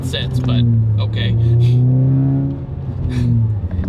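A Ford Focus ST running on E30 ethanol blend revs loudly nearby, its engine note rising and holding in a steady climb, then dropping off; a voice talks over it.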